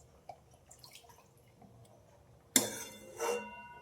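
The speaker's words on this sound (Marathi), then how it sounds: "आता पाणी टाकून घेते" Hot water is poured into a pan of Khandeshi dubuk vada curry gravy. A few soft drips and clinks come first, then a sudden splashing gush that fades and swells once more before ending.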